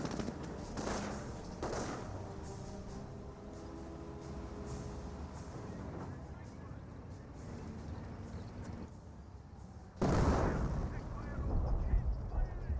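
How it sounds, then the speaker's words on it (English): A 25-pounder artillery barrage in Company of Heroes: several heavy booming blasts, one around the start and a louder one near the end, over a continuous rumble of battle noise. "Is there a creeping barrage somewhere? Nope, that is a regular barrage."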